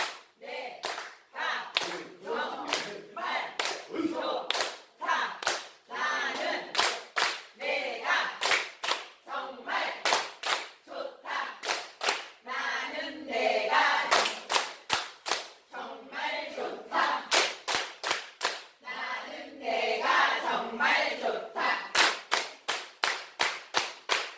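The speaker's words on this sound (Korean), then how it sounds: "말을 하고 박수를 치는 거예요" A group of people claps in unison, sharp steady bursts of handclaps repeating in rhythm for a long stretch, with voices chanting syllables between and under the claps in a dementia-prevention class.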